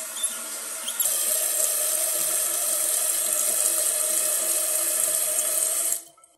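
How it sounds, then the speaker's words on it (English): Water rushing into a toilet tank after the supply line is turned back on during a running-toilet repair, a steady close hissing fill starting about a second in and cutting off abruptly near the end. "And just turn the water back on."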